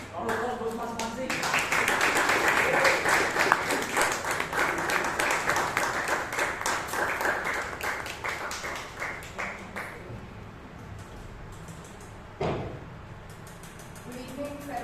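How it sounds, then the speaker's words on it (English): A Toastmasters meeting audience in Bangalore gives a round of applause, steady rhythmic clapping that builds, holds, then thins and fades to scattered claps as talk resumes. "Round of applause, Toastmaster Mansi."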